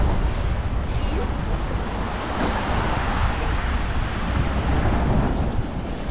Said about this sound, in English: So the water is pretty strong down there.